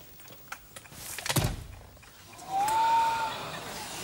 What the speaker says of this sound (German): Und auch geil schon, wie die Tür klingt,